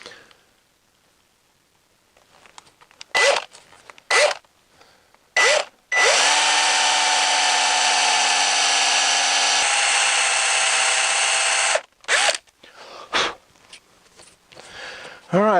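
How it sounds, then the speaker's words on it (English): A power drill bores peg holes into a walnut offcut: several short bursts, then one long sustained whine of about six seconds, then more brief bursts, loud and close with quiet gaps between. "I got myself 12 holes drilled"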